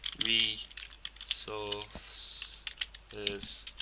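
Code is typed on a computer keyboard in quick close clattering bursts, the key taps running under a voice that talks over them.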